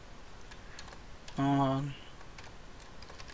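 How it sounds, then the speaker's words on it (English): A name typed on a computer keyboard, heard as soft, scattered key clicks near the mic, briefly covered by a single spoken word in the middle. "I'm going to type the name"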